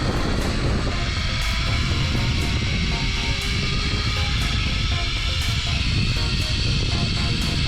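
A zipline trolley runs along the steel cable at Lajitas Golf Resort in Texas, producing a loud, continuous whirring roar that holds steady and close throughout.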